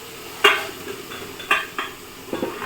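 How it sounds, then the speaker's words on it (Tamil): Mushrooms going into hot oil in a pan with sautéed onions for mushroom biryani, a soft steady sizzle broken by a few sharp clinks and scrapes of a utensil against the pan, no talking. "நம்ம எடுத்துருக்க காளான் வந்து உள்ளார போட்டுக்கலாம்"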